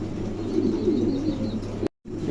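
Soft, low pigeon coos murmur steadily up close, then cut off abruptly for a split second near the end.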